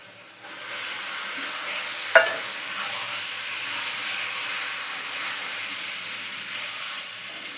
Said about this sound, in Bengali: চিকেনটা এখন ভালো করে কষাবো